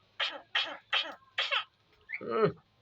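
A bird's voice mimics coughing: four short, harsh cough-like bursts in a steady rhythm, then a longer, lower rasping sound, close and fairly clear.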